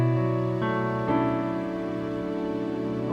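Piano chord cluster played with the sustain pedal held, several notes struck in quick succession and left ringing together, rich sustained tones decaying slowly, close and clear.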